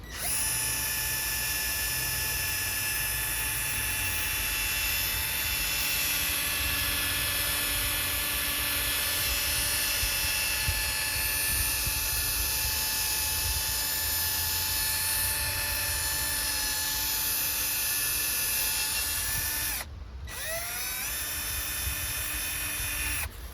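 A cordless drill with a polishing pad works K2 Lamp Doctor paste over a car headlight, a steady close whirring motor that runs continuously with a brief dip near the end.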